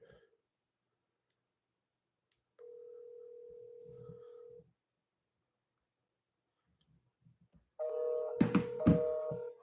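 A telephone dial tone on a dead phone line, a steady flat tone holding for about two seconds, followed later by a louder burst of tones with a thump and faint background noises, no talk.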